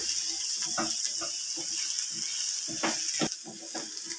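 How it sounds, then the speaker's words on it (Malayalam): Onion and fennel seeds frying in a pan for a Kerala-style squid roast, with a soft steady sizzle and intermittent scraping stirs over a hissing background. "നമ്മുടെ പെരുജീരകമൊക്കെ മൂത്ത് വന്നിട്ടുണ്ട് അപ്പോൾ നമുക്ക് അതുകൂടെ മിക്സ് ചെയ്തിട്ട് ഒന്നും കൂടെ നമ്മുടെ ഉള്ളി ഒന്ന് വഴണ്ട് വരണം"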